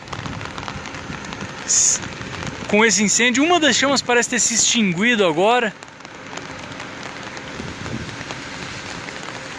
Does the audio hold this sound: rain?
yes